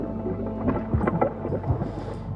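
Stormy weather in the video game Thalassa: Edge of the Abyss, with low rumbling thunder-like booms and rolling water noise over a constant dark wash, moderately loud.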